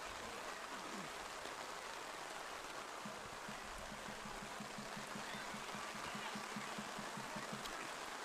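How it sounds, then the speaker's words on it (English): Rain pours steadily during a night high school football game in Pascagoula, a dense even hiss throughout, with faint distant talk and a brief rapid series of tones partway through. "It's a rainy night in Pascagoula tonight."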